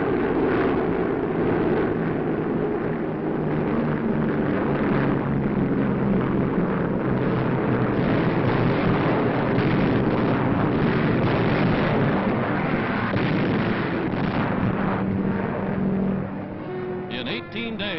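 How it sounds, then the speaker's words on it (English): WWII Allied bombers over the Mediterranean pounding Italian island strongholds, heard as a dense, continuous roar of aircraft engines and rumbling blasts, loud and unbroken for most of the stretch before easing near the end. "Allied bombers swarm across the Mediterranean, softening Italian island strongholds with overwhelming air power."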